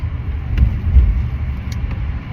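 A car drives along the road, heard from inside as a constant low rumble of engine and road noise with a couple of faint clicks.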